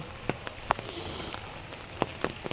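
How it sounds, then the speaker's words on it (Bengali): Heavy rain falls on a rainy Rath Yatra day, a steady faint hiss broken by scattered sharp drips and taps on nearby surfaces, with no talking. "এত বৃষ্টি হচ্ছে পুরো সীমার বাইরে।"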